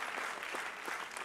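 A crowd at a live charity music event claps in dense, steady applause, loud and continuous throughout the brief moment with no voices standing out.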